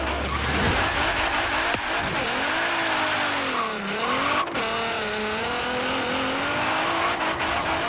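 A 1990 Renault Alpine GTA drag and wheelie car with a GTR-powered 1000 hp engine launches in Forza Horizon 3, engine revving loud and close as pitch sweeps up through gears with squealing tires, no voices.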